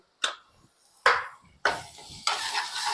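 Spoonfuls of chili, salt and turmeric being stirred into a pan, with sharp scraping strokes that grow into a steady sizzling hiss as the spices hit the hot oil, close and fairly loud.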